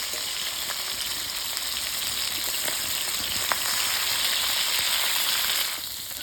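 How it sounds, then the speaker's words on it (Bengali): Boal fish pieces fry in a pan of hot oil, a steady close sizzle with occasional sharp pops that swells slightly midway and eases off near the end, with no one talking. "মাছটা এক পিস ভাজা হয়ে গেছে এবার মাছগুলো উল্টে নেব"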